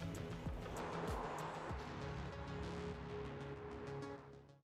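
A Mercedes S-Class hybrid under full throttle, gas and electric drive together, gives a strong, even engine and road roar heard from inside the car before it trails off at the end, with no talk.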